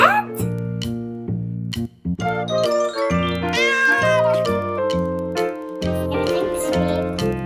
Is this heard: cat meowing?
yes